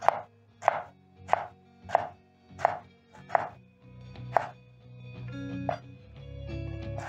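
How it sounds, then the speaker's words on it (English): A knife chops tomatoes into thin strips on a cutting board in an even rhythm, about eight crisp strikes, followed by a few softer cuts and faint kitchen clatter. "slice the top part of the tomato and place aside, cut in half and into thin strips"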